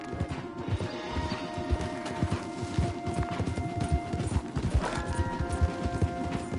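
Horses galloping in Red Dead Redemption 2, a dense, rapid clatter of hooves that runs continuously and loudly throughout, with a faint whinny-like tone and no voices.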